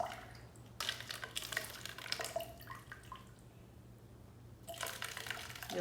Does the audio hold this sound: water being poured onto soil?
yes